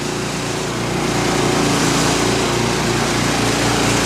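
A sawmill runs steadily on a squared-up log, cutting it into boards, a constant loud engine-like drone with a low hum that holds evenly throughout.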